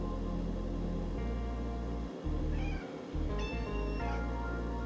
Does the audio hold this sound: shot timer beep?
no